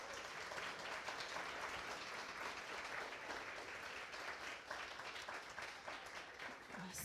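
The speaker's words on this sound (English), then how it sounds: "they deserve a round of applause" Applause from the audience at a coding bootcamp demo day in Montreal, a sustained, even roar of many people clapping, quite faint in level and unbroken for several seconds.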